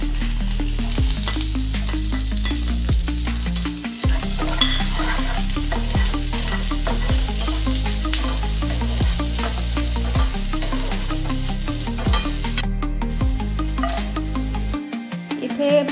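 Garlic, capsicum and red chillies fry in a pan for Manchurian gravy, a steady loud sizzle broken by regular scraping stirs every second or so, close up with no talking.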